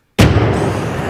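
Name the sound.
cannon firing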